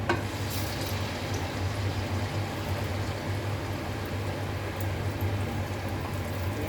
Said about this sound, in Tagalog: Ito na guys, mainit na yung mantika. Ilagay ko na itong aking tortang talong.